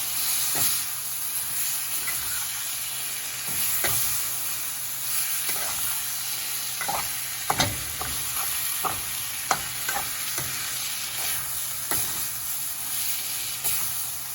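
Rice and angel hair noodles sizzle in a pan over low flame while a spoon stirs and scrapes them together, with repeated scraping strokes over a steady frying hiss.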